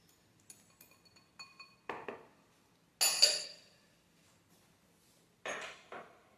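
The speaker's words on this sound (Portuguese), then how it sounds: "Deixa eu dar uma misturadinha aqui assim já." A spoon clinks against a bowl while brown sugar and salt are mixed for gluten-free, lactose-free bread, with light ticks and three louder bursts of ringing, glassy scraping and clattering, close by and with no talking.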